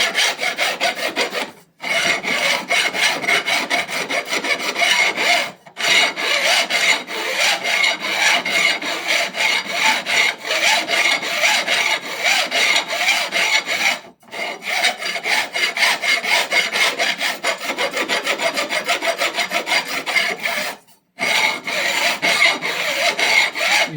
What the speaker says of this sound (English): You want the file turned up when you're filing.